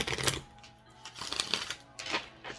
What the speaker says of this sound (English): Do the same. We'll shuffle 3 times.